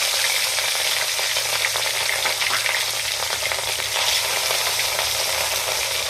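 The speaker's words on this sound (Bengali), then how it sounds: "এখন আমি একে একে মাছগুলো দিয়ে ভেজে নেব। দিয়ে দিলাম মাছ।" Ring-cut rohu fish pieces frying in hot oil, a loud, dense, continuous sizzle and crackle that holds steady throughout with no voices.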